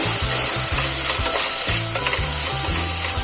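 Onion and tomato mixture frying in a pan while being stirred, a loud, continuous sizzle broken by repeated rhythmic scraping strokes of the spoon, heard up close with no talk.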